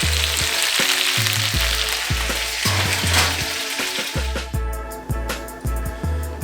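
Chicken sizzling in a hot pan, a close, steady crackling fry that continues throughout, with low knocking sounds from the pan at intervals.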